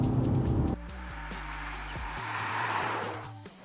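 A BMW 5 Series accelerates hard, its engine note climbing through gear changes in quick stepped shifts over a few seconds, fairly close and steady.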